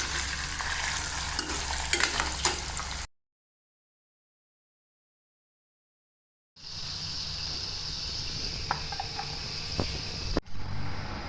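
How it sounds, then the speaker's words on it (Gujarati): Potatoes fry in hot oil in a home kitchen, a continuous close sizzle broken by a stretch of dead silence, then resuming with a brighter hiss and a few soft clinks of a utensil. "બટેટાને ફ્રાય કરી લેશું તેલમાં પહેલાં."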